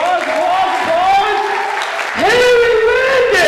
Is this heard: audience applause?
yes